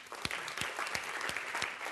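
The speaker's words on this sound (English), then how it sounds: "On the applause, I should say," Audience applause at a BBC forum discussion, a steady dense patter of many hands clapping with a few sharper claps standing out, moderately loud and continuous with no voices over it.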